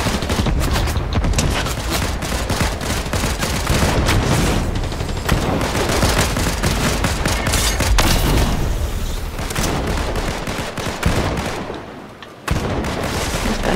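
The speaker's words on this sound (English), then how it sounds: "There's gunfire over here." Rapid bursts of gunfire in Fortnite crackle and pop almost continuously, loud and close, with heavier booms mixed in and a brief lull near the end.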